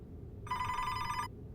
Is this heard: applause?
no